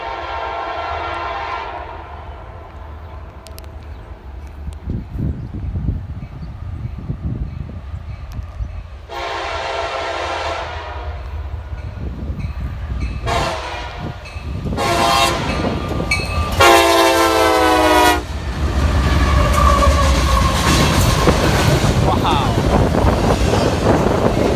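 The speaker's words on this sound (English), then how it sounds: "we got another CSX westbound train coming down" A CSX westbound freight train rumbles past close by, sounding its horn in several long blasts, with wheel clatter and someone talking over the passing cars.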